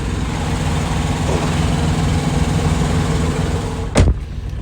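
Idling truck engine rumbles steadily at close range while a trailer is straight-backed into place beside another trailer at a CTC Tampa yard, with a brief louder thump or hiss near the end.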